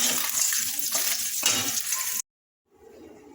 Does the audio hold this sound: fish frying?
yes